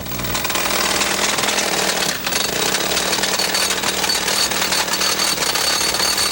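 A loud, continuous rattling roar of a gasoline-powered rock drill hammering away nonstop outdoors in Arizona at a retention dam site, dense and close, with no pauses.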